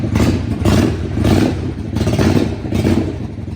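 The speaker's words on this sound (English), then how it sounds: "Beautiful sounding bike with those pipes on there." A 2017 Yamaha XVS650 motorcycle runs through aftermarket exhaust pipes, a loud, close, throbbing engine note that swells and eases in a few revving pulses with no talk.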